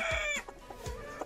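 Fighting-breed roosters cluck and crow close by, a few short, loud calls with sharp onsets separated by brief gaps.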